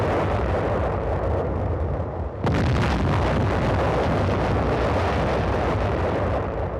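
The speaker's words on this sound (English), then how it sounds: "Ships and aircraft of the United Nations fleet joined in softening up the Inchon area." Heavy naval and aerial bombardment of the Inchon coast, with a continuous roaring wall of blasts that surges sharply louder midway, dense rumbling explosions layered without pause and no voices present.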